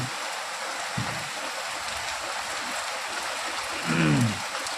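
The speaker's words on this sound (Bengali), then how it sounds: "মুষলধারে বৃষ্টি হচ্ছে, বাইরে কোথাও যেতে পারছি না।" Heavy rain falling steadily outside a village home, a constant broadband hiss of downpour throughout, with a brief louder swell near the end.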